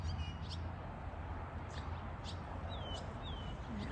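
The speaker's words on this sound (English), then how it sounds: "I hear birds now on those reeds." Birds call from reeds at a nature reserve: short faint chirps and a few sweeping whistles scattered over a steady outdoor background hiss.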